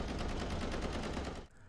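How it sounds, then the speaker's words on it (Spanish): Rapid gunfire from a shooting video game played at high volume, a dense machine-gun burst of fast repeated shots that cuts off abruptly near the end. "Se notaba que estaba jugando un juego de disparos a todo volumen."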